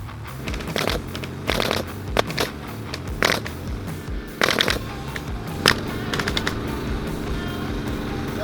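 A faulty wide crown pneumatic stapler shooting staples that fail to drive deep enough fires a series of sharp, irregular bangs with short bursts and pauses, close and loud.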